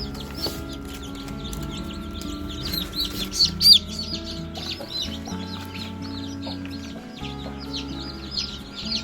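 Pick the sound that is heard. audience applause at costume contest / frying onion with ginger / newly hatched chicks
newly hatched chicks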